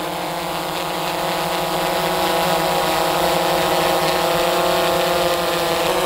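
Yuneec Typhoon-H hexacopter drone taking off, its rotors producing a steady, loud, close buzzing whine with layered tonal hum that holds constant throughout, no talking over it.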